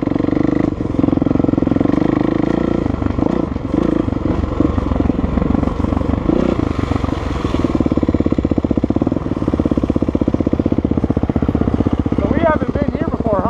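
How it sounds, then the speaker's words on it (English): A dirt bike engine revs on a rocky forest trail at Trail 717 near Divide, Colorado, a loud steady drone with surging throttle right at the microphone, under occasional talk. "revving his bike at me"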